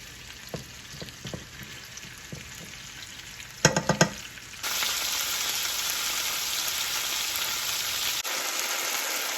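Seasoned, floured beef browns in a hot pan with a continuous loud sizzle, preceded by a few light clinks and a short cluster of sharp metallic taps, then the frying fills the rest until it cuts off abruptly.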